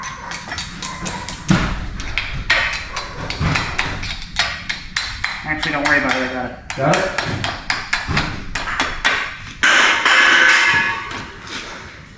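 Small hammer blows land in a quick irregular string of sharp metallic taps and thuds in a garage while work on a K5 Blazer exhaust goes on, with people talking over and between the strikes.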